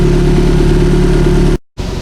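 A 2008-2014 Subaru WRX/STI engine with a Milltek exhaust and HKS equal-length manifold idles while warming up, a deep, constant rumble, close and loud, then cuts out briefly before resuming.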